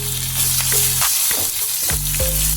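Mustard seeds, urad dal and seasoning vadagam sizzle and crackle loudly in hot oil in a pan, with a dense steady fry and small pops. A low electric hum runs underneath, and no one speaks.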